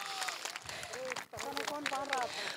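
A corporate crowd at a warm-up session claps loudly in a dense, sustained burst, with voices and tonal cheers ringing out above the applause.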